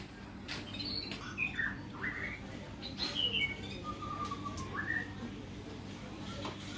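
A white-rumped shama whistles clear, varied phrases over a low steady background hum, with a few sharp clicks between notes.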